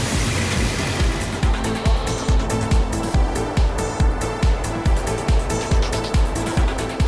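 An army Volvo C303 engine pulling hard in first low gear, a rapid rhythmic low thumping throb pulsing steadily and loudly throughout.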